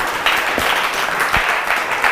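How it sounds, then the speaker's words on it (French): Sustained applause from a stand-up comedy audience, a dense wash of clapping with no pauses. "Applaudissez très très fort"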